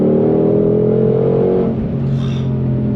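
A 2022 Ford Shelby GT500 accelerates hard in third gear, its engine note loud, close and rising in pitch before easing off, with no talking over it.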